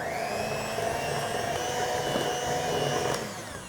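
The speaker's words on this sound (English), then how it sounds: "And you just mix it on low until the egg yolk, the yellow, is all incorporated." Electric hand mixer beating eggs into pound cake batter on low speed, giving a steady droning motor whine with a slight rasp throughout, fading a little at the end; no voices.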